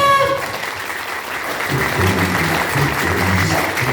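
Group of people clapping together at an 18th birthday celebration, a steady dense patter of many hands close by, growing a little fuller partway through, with no talk over it.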